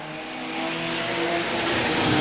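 Race cars in a V6/V8 enduro at Star Speedway roar past loudly and close, engines screaming and rising in pitch as they accelerate through lapped traffic, a continuous dense drone of several cars.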